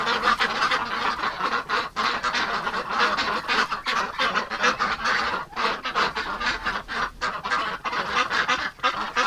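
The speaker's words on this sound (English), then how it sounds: "There's a lot of really pretty ducks" A crowded flock of domestic ducks and geese on a homestead, loud and close, honking and quacking almost nonstop in overlapping, ragged bursts, with no voices over the racket.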